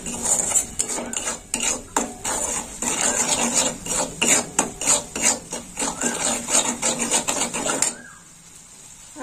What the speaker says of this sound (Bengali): দিয়ে দেবো হলুদ গুঁড়ো, দিয়ে দেবো 1 চামচ লবণ, দিয়ে দেবো একটু লাল লঙ্কার গুঁড়ো। একটু কষে নেব।